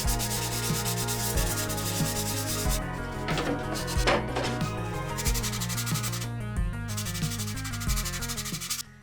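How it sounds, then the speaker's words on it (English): Dry Bondo filler being hand-sanded with 220-grit paper on a 3D-printed blaster, steady rhythmic back-and-forth scraping strokes, close and continuous with no talk. "I'm gonna sand off all the dry Bondo."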